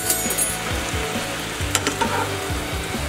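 Maggi noodles being mixed into sizzling masala in a pan, loud close frying crackle with repeated scraping stir strokes and a few sharp clicks, no talking.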